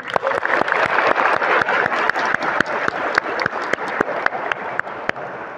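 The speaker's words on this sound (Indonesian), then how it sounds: "Tepuk tangan." Audience applause at a school gathering with student council leaders, teachers and the principal: steady, loud clapping from many hands with sharp individual claps standing out, continuing throughout.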